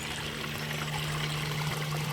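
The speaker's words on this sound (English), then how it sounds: "the babbling water as it falls over the stream side" Water babbling as it falls over the side of a stream in a limestone rock garden, a continuous close splashing trickle with a steady low hum beneath it.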